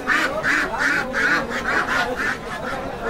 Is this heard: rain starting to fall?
no